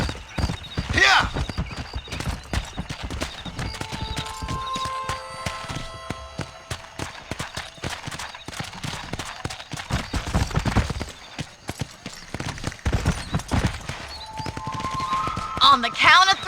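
Horse hooves galloping in the Red Dead Redemption video game, rapid rhythmic clip-clop close up, with a horse whinny, game music and voices talking over parts of it.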